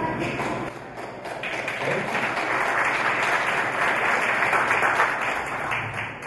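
Conference audience gives a speaker from a Brazilian gems and jewellery association a round of applause, a broad, sustained roar of clapping that builds, holds steady for several seconds and eases slightly at the end.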